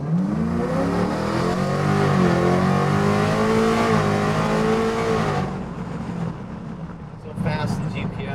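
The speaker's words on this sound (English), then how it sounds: "But let's go for a quick little drive." A supercharged Coyote V8 in a 1967 Ford F100 truck drones loudly from inside the cab while driving, its pitch rising and falling under acceleration, then easing off before picking up again near the end.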